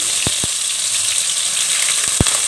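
Chopped onion and two green chillies sizzle steadily in hot oil, a broad hiss with a few sharp pops and spatters; no one speaks.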